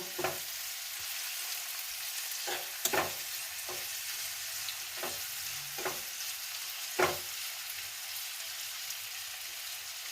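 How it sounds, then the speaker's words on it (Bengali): Onions sizzle softly in a pan while a utensil scrapes and stirs in several sharp, irregular strokes; no talking. "পেঁয়াজগুলো এবার আমি একটু নেড়ে নিচ্ছি পেঁয়াজটা একটু ভাজা ভাজা করে নেব"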